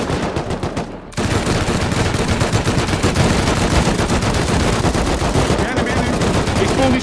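Dense automatic and rapid gunfire from the survival game Rust, a sustained loud volley of shots that briefly pauses near the start, then continues steadily with faint voices underneath.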